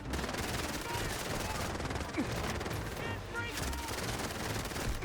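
Rapid gunfire from the Thai mobile shooter Dragon Storm rattles in dense continuous bursts at moderate loudness, layered with game action noise throughout.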